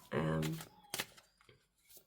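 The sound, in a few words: shuffling a deck of cards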